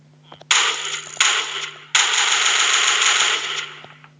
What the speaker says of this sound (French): Alors, on va commencer avec le M249. C'est l'une des armes les plus connues